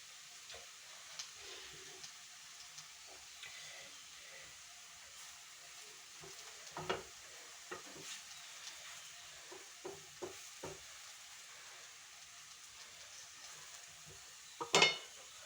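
Plantain slices fry quietly in ghee in a pan, with a faint soft sizzle running throughout and occasional light clinks and scrapes of a utensil turning them.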